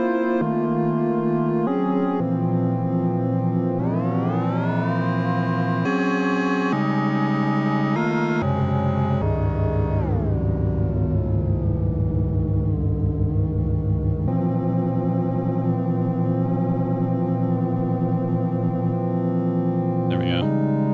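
Modular synth patch in VCV Rack producing FM-style tones: sustained, harmonically rich pitches that sweep and glide, change timbre in steps and shift sidebands, loud and continuous with no talking.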